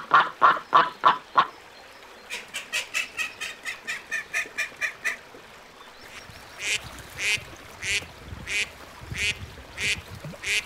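Ducks quacking on a pond: a run of loud, evenly paced quacks, then a long quicker series of calls, then another steady sequence, all close and clear with no voices.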